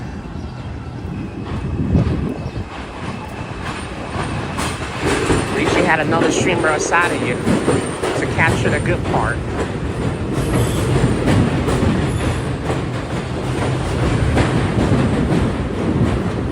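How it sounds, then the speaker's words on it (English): A train rumbles past along an elevated line in the Bronx, New York City, a steady loud roar with clattering wheels throughout, while a person talks over it. "I could have just mute the train noise"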